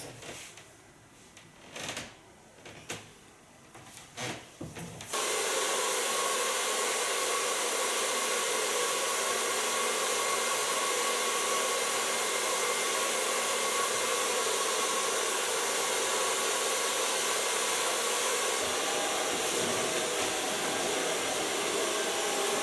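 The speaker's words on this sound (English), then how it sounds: "Start blow drying from the underline up to the upper lines." A hair dryer blows steadily on hair during a bob cut, switching on after a few seconds of quiet handling sounds and running as a loud, continuous close whoosh for the rest.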